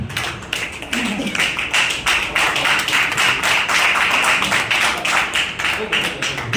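An audience at a seminar claps loudly together for Rajesh sir, a dense, steady patter of many hands that carries through the whole stretch without pause.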